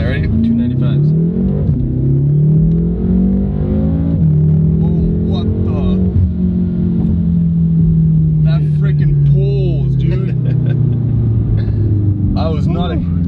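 A BMW M6 on fresh 295 tires, engine revved hard in first gear, roaring loud and close as the pitch climbs, then holds and slowly falls across a long continuous pull.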